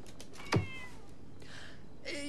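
A cat gives a single short meow, close and fairly loud against a quiet room with faint background noise, followed by soft shuffling sounds.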